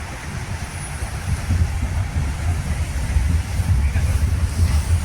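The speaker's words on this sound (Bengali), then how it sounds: "এই দেখো আমাদের ট্রেনটা চলে আসছে" A train rumbles low and heavy into Zurich HB station, growing slightly louder as it draws near, with gusts of wind buffeting the microphone.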